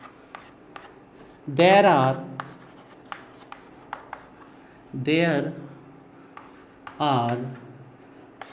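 Chalk or marker strokes on a classroom board during a physics lesson, three distinct bursts of squeaky scraping writing separated by pauses, with small taps between them and a teacher's voice briefly heard.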